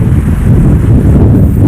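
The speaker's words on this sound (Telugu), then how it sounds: "గాలి సౌండ్" Strong wind at a campsite on the Krishna river between two hills roars loudly and steadily across the microphone, a dense low rumble with no voices.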